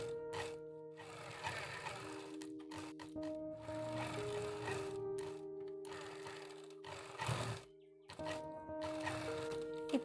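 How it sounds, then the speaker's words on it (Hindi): Sewing machine stitching a pocket onto a ladies' undershirt, a close steady mechanical whir running in several bursts separated by brief stops, fairly quiet, with no talking. "ये सिलाई लगा देनी है।"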